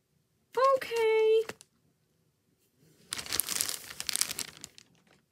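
A plastic bag crinkles and rustles for a couple of seconds, close and fairly loud, after a short burst of a cartoonish puppet voice.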